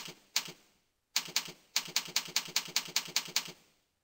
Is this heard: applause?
no